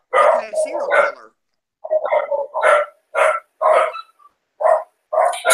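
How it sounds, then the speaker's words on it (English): Dogs bark in loud, excited bursts nearby, several sharp barks and yips spaced by short pauses, mixed with a person speaking. "my dogs are going crazy"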